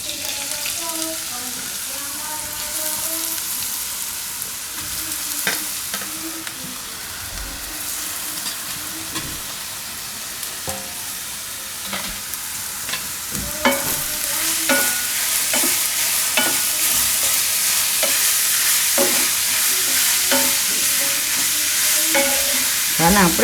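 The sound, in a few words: grated bottle gourd frying and being stirred in a pan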